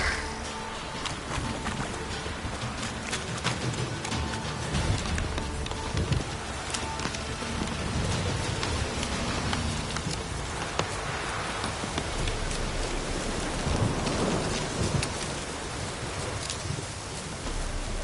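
Rain falling in the Witcher 3: Wild Hunt game, a continuous dense hiss of drops on surfaces, steady and even in level for the whole stretch.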